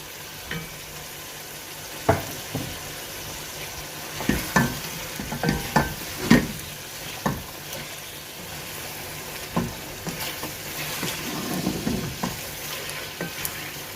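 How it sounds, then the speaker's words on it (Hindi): Pre-fried chicken tipped into a pan for chicken Manchurian and stir-fried, with a continuous sizzle under repeated scraping and clattering spatula strokes close up, no voices. "साथ ही हमने जो अपना चिकन जो फ्राई करके रखा हुआ था वो इसमें ऐड कर देंगे।"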